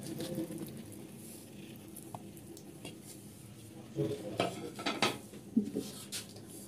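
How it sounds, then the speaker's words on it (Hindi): Creamy macaroni salad with boiled potatoes being mixed in a bowl, with soft squelching and scattered clinks of a spoon against the bowl, fairly quiet and growing busier toward the end. "इसको हम मिक्स करेंगे मिक्स करके आप टेस्ट कर सकते हैं"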